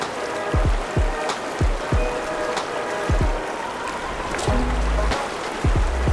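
The Pecos River in the New Mexico wilderness rushes in a steady, close broadband wash, with a few low thumps breaking through the flow.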